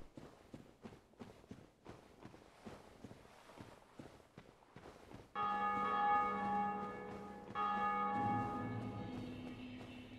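In the video game Dark Souls, a string of rhythmic footsteps gives way to a large bell ringing out twice, each loud resonant strike followed by a long ringing decay.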